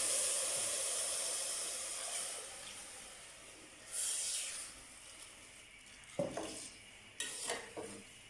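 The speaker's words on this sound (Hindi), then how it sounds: "सेवइयाँ भून ली हैं तो इसमें दूध अभी ऐड करूँगी" One litre of full-cream milk pours into roasted vermicelli in a pan, a soft hissing sizzle that swells and fades, with a few clinks of utensils near the end.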